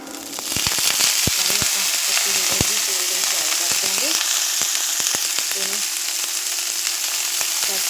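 Cauliflower pickle ingredients frying in hot oil in a pan on an induction cooktop, a loud close sizzle that jumps in suddenly, with sharp spatters and utensil scrapes early on.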